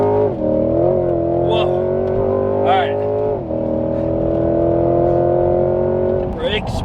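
A C8 Corvette's engine strains while accelerating on a racetrack with a heavy passenger aboard, giving a loud, sustained drone whose pitch rises and dips through the run. A man briefly exclaims over it.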